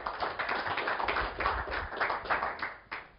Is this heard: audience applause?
yes